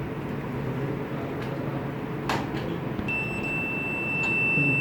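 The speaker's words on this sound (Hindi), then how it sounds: "लेकिन अगर मैं टच करूंगा तो बीप आएगी।" Multimeter set to continuity (ohm) mode while checking a washing machine motor and fridge compressor: a steady, high electronic beep starts about three seconds in and holds unbroken to the end, over low room hum.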